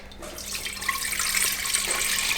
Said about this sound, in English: here's my 3 cups of water. I just put some in the Alessi, and now I'm going to put the same amount into the